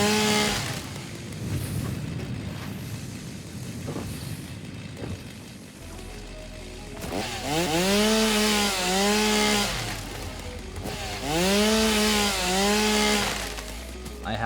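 Chainsaw cutting down trees in the factory game Satisfactory, a buzzing motor that revs up in two loud bursts with rising and falling pitch over a steady low drone.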